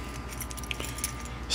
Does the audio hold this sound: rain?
no